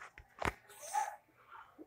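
A single sneeze bursts out near the mic, sharp and brief, followed by soft breathy rustling and a faint tone in a quiet room.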